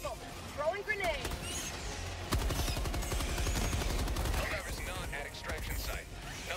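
A grenade bursts with a heavy broadband blast in the video game Helldivers, followed by sustained rumbling gunfire and battle noise, while in-game voice lines talk over the action.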